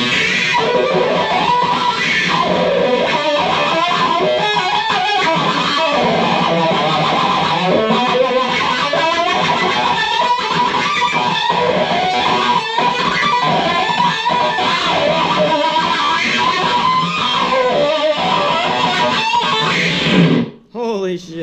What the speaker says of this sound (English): 70s rock F with octave and distortion.